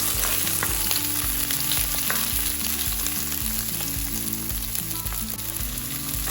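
Ginger frying in a large pan for chicken curry, a dense steady sizzle with rhythmic scraping and clanking from repeated stirring, close and loud throughout.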